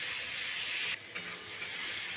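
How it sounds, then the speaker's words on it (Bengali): Pre-fried green jackfruit and potato pieces are sautéed and stirred in a pan, with a soft, steady sizzling hiss broken by brief scraping stir sounds and a short dip midway. "এবার ভালো করে কষিয়ে নেব।"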